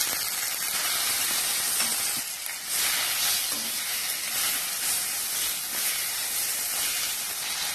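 Sliced onions and three tomatoes sauté in a pan for vegetable kurma, giving a loud, continuous sizzle and hiss with faint stirring scrapes throughout and no talking.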